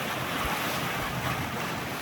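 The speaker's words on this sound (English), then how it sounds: "the wind's behind us, so we've got some decent sized waves pushing us along" Ocean waves of about four feet, with whitecaps, push a sailboat running downwind under one sail. Heard as a constant loud wash of water and wind buffeting with no voices.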